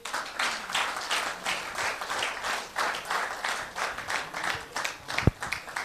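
A training-session audience claps for distributors at a business event, with fairly loud and rhythmic clapping that swells and dips in pulses. A sharp knock near the end rings out over the sound.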